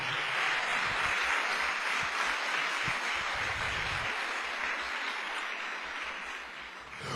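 A church congregation applauds during a sermon, a soft, steady blanket of many hands clapping at a distance, fairly even in level and easing off slightly near the end.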